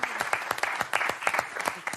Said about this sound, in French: Là, on applaudit Daphné.